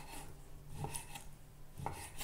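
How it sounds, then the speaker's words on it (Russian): A few sharp knife strikes on a cutting board as meat is finely chopped into mince, spaced irregularly, with a soft scraping rasp between them, close and fairly quiet. "Просто мелко порублю его ножом"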